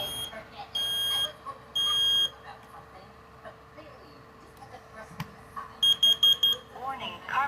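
A Kidde KN-COPE-D combination smoke and carbon monoxide detector sounding during a test, with loud piercing high beeps in short repeated bursts, a longer pair early on and a rapid cluster of four near the end, while a person talks quietly in between.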